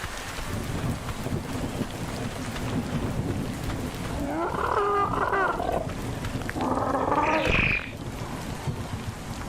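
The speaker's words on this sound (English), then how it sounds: "it's just started raining." Rain and thunder in the video game Ark Survival Ascended: a steady broadband rain hiss throughout, a low rumbling bed, and two louder swelling rolls of thunder in the second half.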